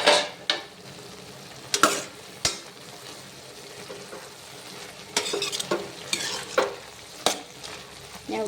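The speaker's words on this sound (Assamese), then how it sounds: "ঢাকনখন আঁতৰাই এতিয়া কচুখিনি এবাৰ লৰাই দিম।" Taro (kochu) frying in a pan is stirred with a utensil, sharp scrapes and clacks landing irregularly over a soft, steady sizzle, close and fairly loud, with a busier cluster of strokes toward the end.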